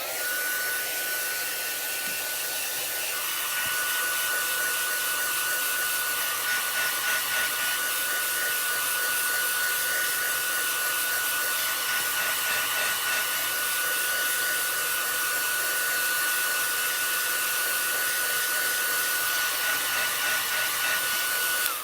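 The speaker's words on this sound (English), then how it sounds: "So we can take a heat tool very lightly." A heat tool blows steadily over snow paste spread through a winter scene stencil, a continuous airy whoosh held close and loud throughout with no talking.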